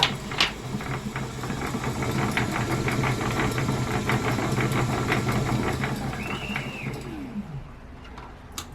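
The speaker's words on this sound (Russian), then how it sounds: "И прялка работает без педали." An electric spinning wheel runs on its own without a pedal, giving a steady close mechanical whirr with fast rhythmic ticking that winds down near the end.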